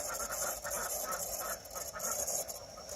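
Ducks and chickens at a backyard pool, honking and clucking in a steady, overlapping chorus nearby, fairly loud and with no talk.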